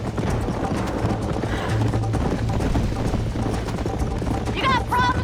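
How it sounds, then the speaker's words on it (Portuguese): A horse gallops in the video game Red Dead Redemption, its hoofbeats a rapid, continuous clip-clop close up among game sounds, with a horse whinny near the end and a voice talking over it. "o negócio aqui é complicado para correr com esse cavalo"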